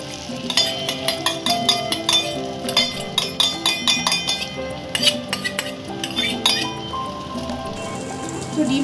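Egg frying in butter in a wok (kadai) while being stirred, with steady sizzling crackle and repeated scraping, clinking strokes of a utensil against the pan, close and continuous.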